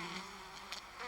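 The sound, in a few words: honeybees buzzing on the wax combs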